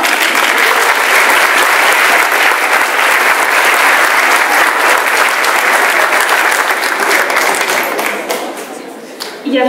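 Dense, loud applause from an audience at a high school graduation ceremony for final-year students, sustained and steady before tapering off near the end.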